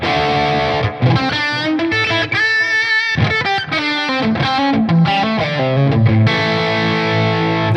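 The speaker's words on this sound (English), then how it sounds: "This is based on my incredible Friedman vintage Plex amplifier." An electric guitar is played through a tone model of a Friedman vintage Plex amplifier, giving crunchy, driven chords and single-note phrases, loud and close with no voices over it.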